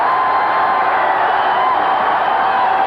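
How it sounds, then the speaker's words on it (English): A basketball arena crowd during a first-half timeout in a college game, a dense and loud steady roar of many voices filling the whole clip without any break. "Look at this crowd."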